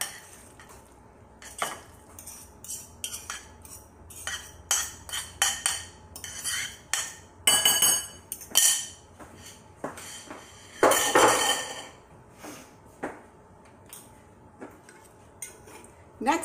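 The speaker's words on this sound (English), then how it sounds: "Okay, so there's your beans. I'm just going to throw those right in there." Cooked beans tumble into a pan while making tofu burgers, with a series of irregular clatters, taps and scrapes of utensils against metal at close range.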